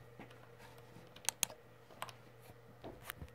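Light keyboard and mouse clicks on a computer, a few sharp isolated taps followed by scattered softer clicks, quiet and close in a calm room.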